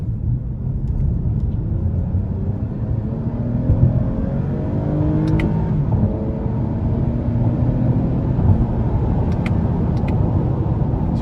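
A 2021 Toyota Camry XSE V6 in sport mode accelerates hard, its engine drone and road rumble filling the cabin steadily with a slight rise in pitch, no one speaking.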